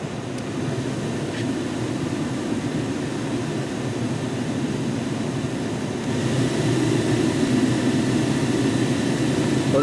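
A blower motor in a 1996-98 Chevy C/K pickup runs on its high speed setting, producing a steady whooshing fan hum that grows slightly louder partway through, heard close and alone.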